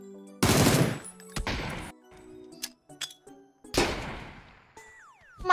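Loud bursts of gunfire in a PUBG match. Heavy volleys are separated by short gaps, with sharper single shots and metallic clinks in between.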